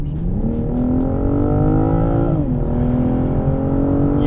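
BMW M440i engine under full throttle from 30 mph, a loud, steady rising roar climbing through the revs, a brief dip at a gear change, then pulling hard again close up.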